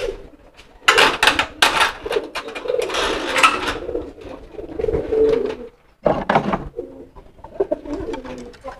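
Fan-tailed pigeon cooing loudly and repeatedly, close up, in bursts of deep throaty coos with brief pauses, alongside some handling and rustling noise.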